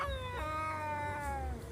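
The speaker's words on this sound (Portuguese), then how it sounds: "Os miados bem fortes," A loud, sustained cat yowl with a sharp restart partway through, a long wavering cry close up over a steady low hum.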